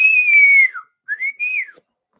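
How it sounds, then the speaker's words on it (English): A person whistles alone, one long falling note followed by a short pause and then two brief rising-falling notes, close and clear with silence after. "And yes, I can whistle. Not well, but I can."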